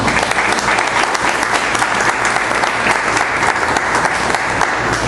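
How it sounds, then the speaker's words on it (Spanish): A church congregation bursts into loud, sustained welcoming applause during a Spanish-language service, dense steady clapping that fills the room without pause. "Démosle ese fuerte aplauso de bienvenida."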